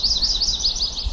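A black-and-white warbler sings in the Maine woods, a thin, high, squeaky series of rapidly repeated wheezy notes, clear and fairly close, with no voices.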